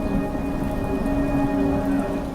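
Steady rain falls under a grey sky, a dense, continuous patter with a low rumbling undertone, moderately loud and unbroken, with no voices.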